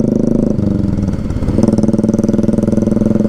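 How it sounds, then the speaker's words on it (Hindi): A Royal Enfield Bullet motorcycle engine thumps steadily and loudly up close on a morning ride in Goa, its low, even beat briefly dipping and then returning strong with no talk over it. "भागती नहीं तेरी बाइक, सिर्फ आवाज़ करती है"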